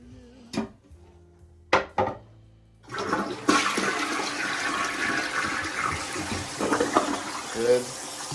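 A toilet flushes in a hallway bathroom of a 2009-built single-story house, preceded by a few sharp clicks and knocks, then a loud steady rush of water for several seconds.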